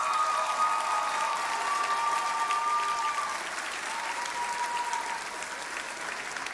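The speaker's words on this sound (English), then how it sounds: "Let's give our graduates from the School of Graduate and Professional Studies another round of applause." An audience applauds graduates of the School of Graduate and Professional Studies at a 2024 commencement ceremony, steady dense clapping from a large crowd that tapers slightly toward the end.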